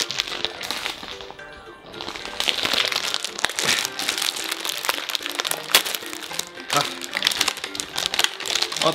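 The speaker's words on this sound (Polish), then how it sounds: "Otwieramy." Crinkly plastic packaging of Japanese snacks rustles and tears open at close range, steady crackling throughout with someone talking over it.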